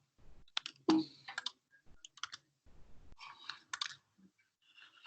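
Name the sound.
typing on a computer keyboard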